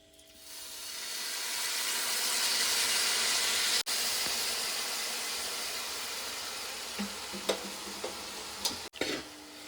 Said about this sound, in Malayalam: ഇനി നമുക്ക് വിനാഗിരി ഒഴിച്ചു കൊടുക്കാം